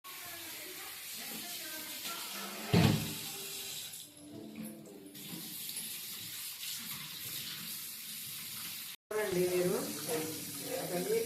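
Fish being rinsed under a running kitchen tap for a home-cooked fish fry, a steady close hiss of water broken by a brief splash and a short cutoff, with a voice speaking over it.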